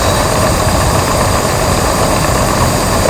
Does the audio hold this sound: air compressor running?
yes